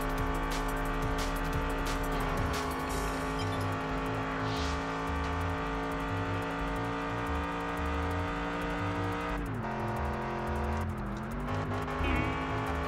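Sustained engine drone from a car driving at high speed in Test Drive Unlimited on PS2, a steady, loud whine with a couple of pitch dips as the gears shift and faint tire noise, with no talking.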